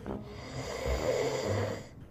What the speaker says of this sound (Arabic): ما صوت شخير عم بهز التخت من تحته